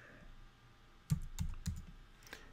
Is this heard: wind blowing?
no